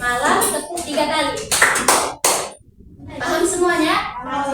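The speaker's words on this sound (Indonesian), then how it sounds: "kalau Miss bilang pagi tepuk sekali, siang tepuk 2 kali, malam tepuk 3 kali" Children in a primary classroom clap a few quick, sharp beats in a counting icebreaker game, the bursts falling between stretches of a teacher's voice.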